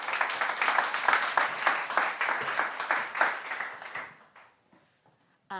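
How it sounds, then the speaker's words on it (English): An audience at a net-zero sustainability conference session claps loudly and evenly for about four seconds, then the applause thins out and dies away into near silence. "Big round of applause, please."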